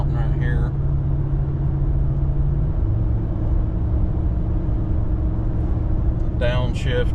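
A 2021 Ram 1500 with the 5.7 Hemi V8 drones heavily while climbing a mountain road hauling a load of wood, a steady low cabin rumble that shifts pitch partway through, with brief voices at the start and end.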